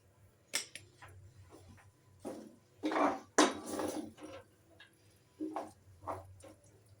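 A wooden spoon stirring and scraping greens in a pan, producing soft irregular scrapes and clunks in short bursts separated by quieter gaps, with a low steady hum underneath.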